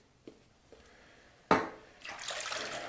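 Running water pours from a tap as hands rinse beneath it, beginning with a few faint drips and taps before a louder splash and a steady close stream.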